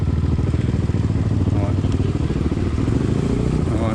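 A motorcycle rumbles in first gear on a slippery downhill trail while motocamping, its engine thrumming steadily and close throughout.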